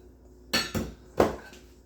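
Three sharp utensil knocks against a bowl as an Asian sauce for BBQ country ribs is stirred, with a clear pause before the last, loudest clink.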